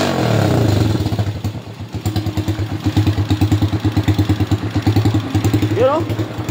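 Neglected trail motorcycle engine running on its first start after long storage, a rough, pulsing idle with rhythmic clattering firing beats, close and loud, with a brief rev near the end and some talk over it.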